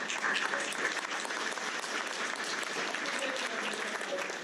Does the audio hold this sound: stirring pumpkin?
no